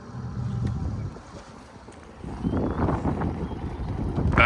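A single-engine boat idles and churns water while backing into a dock, the engine note and prop wash swelling louder in the second half with wind noise over the mic.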